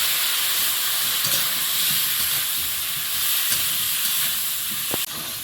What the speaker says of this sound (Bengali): কলাটা ভালো করে ভেজে নিলাম